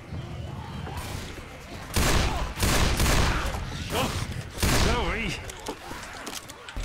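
Rapid bursts of automatic gunfire in a first-person shooter game, several loud volleys in quick succession with brief gaps, layered under occasional speech-like voices and game effects.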